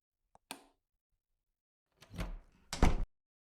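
A door in the horror game Night Prowler clicks, then creaks and swings open with a muffled thud, followed by a heavier knock, all isolated against silence.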